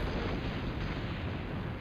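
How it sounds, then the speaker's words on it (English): A bomb blast in the PlayStation game Silent Bomber, a loud, dense, sustained roar filling the whole short stretch at steady volume with no voices. "There's going to be explosions like this every 2 seconds in this game"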